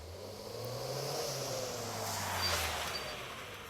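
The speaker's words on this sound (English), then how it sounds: "I hear a sound. A car's exhaust." A car engine revs and roars steadily up close, its exhaust note rising and swelling midway before settling, with no voices.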